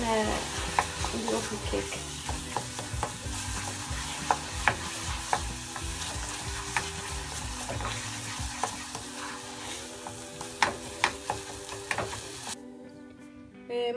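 A date and cinnamon mixture is stirred in a pan, giving a soft constant sizzle with repeated scraping clicks of a spoon, close up, before it cuts off near the end as someone briefly speaks.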